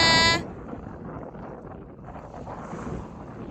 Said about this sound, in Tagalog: Ngayon mahangin na eh.